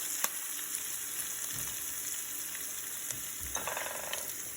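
Green chilies and ginger sizzle in a pan for a cauliflower gobi stir fry, a soft, steady hiss of frying oil with a few light clicks and scrapes of stirring, with no voices.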